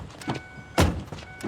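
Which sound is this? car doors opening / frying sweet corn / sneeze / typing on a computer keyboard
car doors opening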